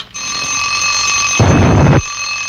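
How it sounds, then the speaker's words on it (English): Cartoon alarm clock ringing in a king's castle: a steady, loud bell-like ring runs throughout, with a burst of added clatter in the middle before the ringing continues alone. "the alarm went off."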